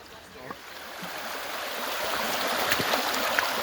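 An overfull creek flowing fast, a steady broadband rush of water that grows slightly louder, with a few faint splashes and knocks on top.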